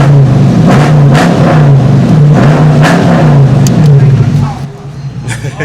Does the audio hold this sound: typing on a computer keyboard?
no